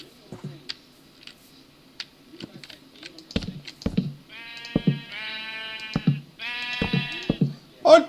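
Minecraft sheep bleat several times in quick, wavering calls over scattered clicks and taps, fairly quiet overall.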